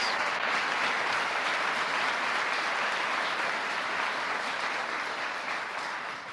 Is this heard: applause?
yes